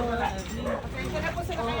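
A dog barks repeatedly in short yelping bursts in a village neighborhood in the Philippines, heard at moderate distance while people talk over it.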